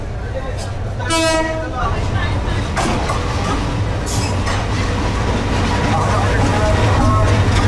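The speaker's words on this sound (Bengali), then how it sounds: "এই যে আমাদের ট্রেন প্রবেশ করতেছে" The 11 Sindhu Provati train pulls into a busy station on the Dhaka to Kishorganj line, sounding a loud horn blast early on, then a steady heavy rumble of rolling coaches under a constant crowd murmur.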